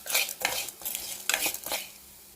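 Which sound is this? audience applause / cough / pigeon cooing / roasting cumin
roasting cumin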